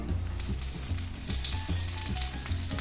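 Tempeh sizzles on a hot grill with a steady, dense crackle and hiss, close and continuous, with no voices.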